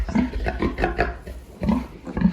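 A large mother pig near her three-day-old piglets lets out a rapid series of loud, rough grunts and squeals in short bursts with brief pauses between them.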